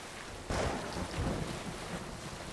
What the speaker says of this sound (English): I wanted to capture the thunder.